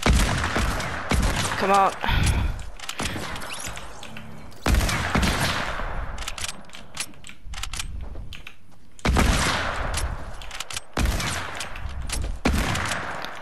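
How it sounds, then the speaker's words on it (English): Sniper rifle fire in Fortnite Battle Royale, several sharp loud shots spaced seconds apart, each with a decaying tail, amid game ambience and a brief spoken remark. "There we go, sniper shootout"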